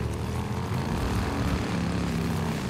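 Helicopter from the video game Days Gone, a steady loud rotor and engine drone holding level throughout with no speech over it.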